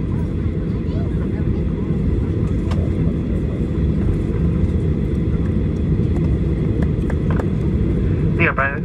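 A Flybondi Boeing 737-800 rolls along the runway just after landing in Buenos Aires. Its constant cabin rumble and engine drone continue beneath a spoken announcement over the public address.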